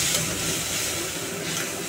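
Water poured into frying masala for a Bengali hilsa fish curry, a loud steady hiss of steam and sizzle close by.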